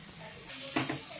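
Mint and tomato sizzle and get stirred in a pan for mushroom biryani, a steady close frying hiss with a few brief scraping stirs.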